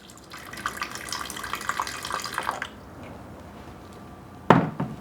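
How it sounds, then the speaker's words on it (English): Water pours steadily into a blender jar sitting on a kitchen scale for about two seconds, a bright splashing stream, followed by quiet and a sharp knock near the end. "add 250 grams of water"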